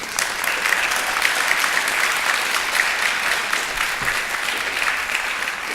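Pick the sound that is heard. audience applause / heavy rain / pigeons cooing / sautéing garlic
audience applause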